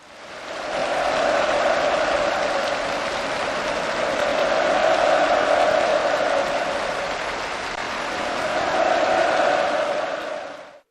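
Enthusiastic applause from a large hall of conference participants, dense sustained clapping with a roar of crowd voices that rises quickly, holds steady for about ten seconds, then cuts off.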